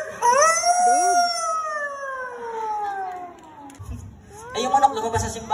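A human voice imitates a long, wavering dog howl that slowly falls in pitch, followed by brief talking and laughter.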